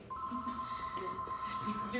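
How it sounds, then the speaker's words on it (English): A telephone rings indoors during a dog training session, a steady electronic tone repeating for about two seconds beneath faint background noise. "And our phone's ringing, of course, right in the middle of this video."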